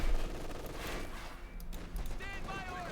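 An MG-42 machine gun fires in the Company of Heroes 2 strategy game, rattling in short bursts at middling distance under someone commentator talking over the battle.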